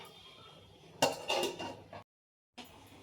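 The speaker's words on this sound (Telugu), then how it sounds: "ఇవన్నీ ఇక ఉడకాలంటే మనం మూత వేసుకోవాలి" A metal lid clatters onto a cooking pot, a burst of clinking and scraping about one second long, followed by a brief silence.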